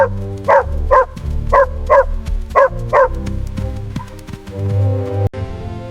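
A dog barks repeatedly in a quick rhythmic series of loud, close woofs, then trails off into quieter noises with no talk.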